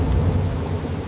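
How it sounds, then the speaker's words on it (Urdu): Loud thunderstorm over a forest, a dense steady roar of heavy rain and wind with low rumbling underneath, no voices. "اچانک آسمان پر سیاہ بادل چھا گئے، تیز آندھی اور بارش نے جنگل کو ہلا دیا۔"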